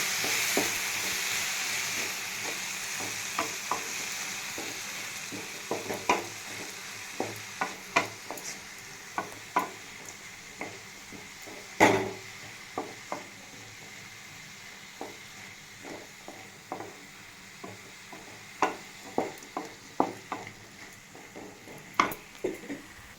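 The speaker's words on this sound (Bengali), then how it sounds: "অল্প একটু টক দই, দিয়ে এবার আমি এটাকে নাড়িয়ে নেব।" Vegetables cooking in a pan with a little sour yogurt are stirred over a soft sizzle, with frequent sharp spoon clicks and scrapes against the pan, close up and without speech.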